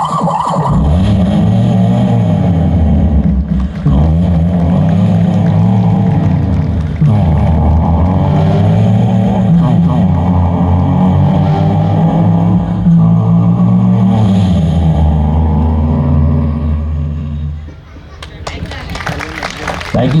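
A voice imitates a Tata Nano car engine starting up and driving, a loud sustained droning hum with pitch rises and falls like revving, running continuously up close before cutting off near the end.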